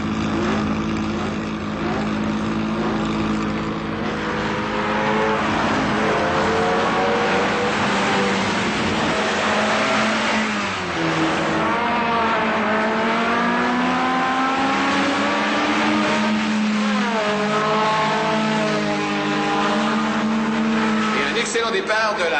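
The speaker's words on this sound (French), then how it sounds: "18 voitures au départ de cette première série, 25 tours à couvrir" At the start of a race, a field of eighteen race cars including a Ligier and a Lancia Stratos pulls away together. Engines roar loudly and rise in pitch as they rev through the gears, with a commentator talking over them.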